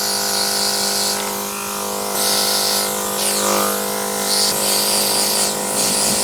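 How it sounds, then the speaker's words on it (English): Airbrush spraying blush onto a face during makeup, a close, continuous hissing spray over a steady compressor hum, with brief pauses and swells in the airflow. "Now shoot high with airbrush blush because I have made the mistake of doing it too low."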